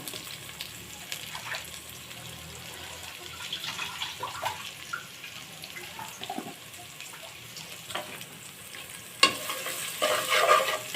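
Spices sautéed and stirred in a pan for a chickpea curry, with soft sizzling and intermittent scraping of a spoon, fairly quiet, and a brief burst of running water near the end.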